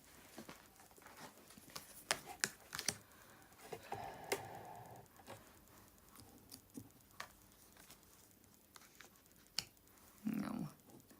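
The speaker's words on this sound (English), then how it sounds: "now I'm throwing the cards away" Tarot cards are tossed down and handled on a surface in a quiet room, making sparse soft taps, flicks and brushing shuffles with irregular gaps between them.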